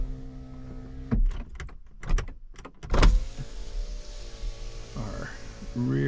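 Power window motor on a Lexus IS300, a steady electric whir running under mechanical clicks and thumps from the door, close and moderately loud, with harmonic motor hum throughout.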